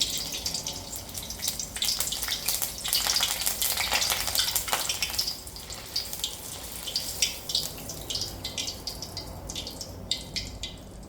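Potato bhaji frying in hot oil gives a steady, bright sizzle throughout, loudest early and then settling into a continuous crackling hiss with occasional pops.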